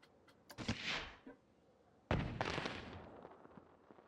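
Fireworks going off in a video game, with two booming bursts: a shorter one early, then a louder crackling blast that trails off slowly, heard alone.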